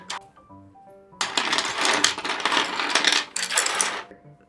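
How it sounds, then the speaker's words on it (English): Colored pencils slammed down onto a table, rolling and clacking against one another in a dense run of hard wooden clicks and rattles lasting a few seconds, close and fairly loud. "I'm like slamming the pencils basically down as I set them. So you'll hear like the rolling and the click and the clacking kind of look of the colored pencils."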